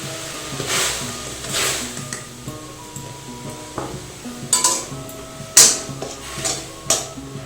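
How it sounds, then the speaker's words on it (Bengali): Rice flour is stirred into boiling water in a pot, with scraping and clinking of a utensil against the metal at irregular intervals, close and moderately loud, with no talking. "এবারে আমি চাল গুঁড়োটা দিয়ে দিচ্ছি জলে।"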